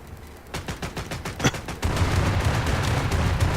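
Tank guns fire during a test in the video game War Thunder: a rapid series of loud, sharp shots, one especially heavy, gives way to a sustained rumbling roar.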